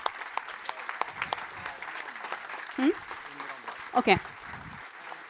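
Audience applause for the staff of the Nordic Reform Conference, dense steady clapping from a hall crowd throughout, with a voice speaking briefly over it.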